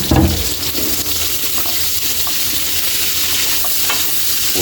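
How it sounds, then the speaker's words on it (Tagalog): Onions dropped into hot oil with chili leaves, frying in a pan, a dense, close, steady sizzle with a louder burst at the start and a few faint clinks of stirring. "Yan, pwede na natin ilagay natin sibuyas."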